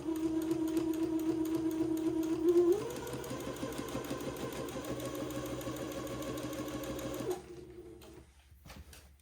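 A sewing machine runs a straight first-pass stitch for a French seam on a baby daygown, a steady close mechanical whir that shifts pitch briefly and then stops abruptly near the end.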